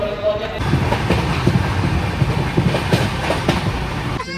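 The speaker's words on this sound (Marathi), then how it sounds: "आता आपली ट्रेन चालली आहे." Inside a moving Indian passenger train, a steady rumble carries repeated clickety-clack wheel beats over rail joints, with people talking intermittently nearby.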